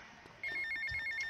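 Phone ringing in GTA Vice City, an electronic ringtone that starts abruptly after a brief quiet moment and repeats in quick, even pulses, loud and clear with no talk over it.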